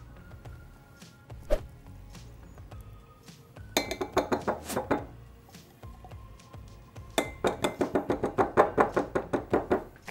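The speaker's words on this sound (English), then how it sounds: "Okay, now I'm gonna give it a good stir." A utensil stirring body butter ingredients such as coconut oil in a bowl gives bursts of rapid clinking and knocking against the sides, quiet at first, then two louder rhythmic runs of close taps.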